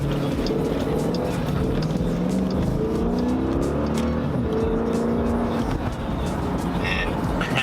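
Jeep Grand Cherokee SRT with four-wheel drive launches hard, its engine roaring loudly and climbing in pitch through gears for several seconds, close and constant, with some talk inside the car mixed in.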